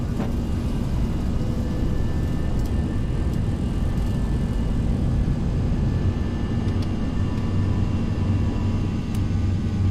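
Steady, loud roar of an Airbus A320's jet engines during a touch-and-go, a continuous broadband rumble with faint whining tones, constant throughout with no talk.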